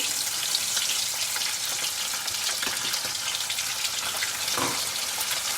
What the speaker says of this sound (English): So this is a deep fry, so we will fry it until they all become a golden brown color